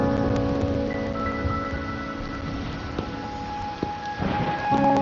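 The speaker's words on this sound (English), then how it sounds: "Or are you simply passing the time until the rain ends?" Steady rain with low thunder rumbling through it in the video game Wuthering Waves, a continuous even downpour holding at a moderate level, with a few soft knocks and no voices.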